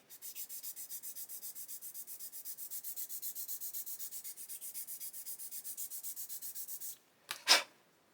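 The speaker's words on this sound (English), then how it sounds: "I'm just going to sand some more away." Wood is sanded away on a hobby model part in quick, even back-and-forth rubbing strokes for about seven seconds, close and fairly quiet, ending with a short sharper scrape.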